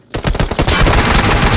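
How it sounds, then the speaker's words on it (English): Scar assault rifle fire in PUBG Mobile during a 2025 PMSL Americas esports match: loud, rapid bursts of shots crackling close up, running almost continuously with no talking. "trying to take some shots with the Scar"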